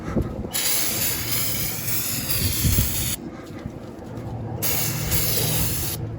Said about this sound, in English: get them brake clean and spray them off